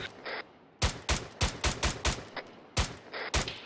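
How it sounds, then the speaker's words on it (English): Arma 3 gunfire rings out in a rapid irregular string of sharp, loud shots, about a dozen reports in bursts with short gaps between them. "I'm still under heavy fire on the southwest"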